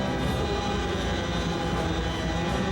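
A South Korean Army special warfare military helicopter in flight gives a loud, constant engine and rotor drone with steady whine throughout, no voices.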